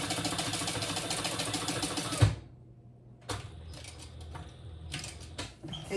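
Sewing machine stitching across the sides of a fabric wallet: a dense, fast mechanical whir that stops abruptly, followed by quieter creaks, clicks and handling of the fabric, close and fairly soft.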